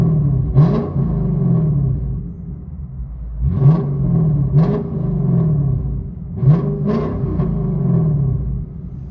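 Lexus IS 500 5.0L V8 (2025) with a Magnaflow Magnapack catback, high-flow cats, X-pipe, quad tips and valves open, revving in several sharp blips that rise and fall over a deep idle burble, loud and close.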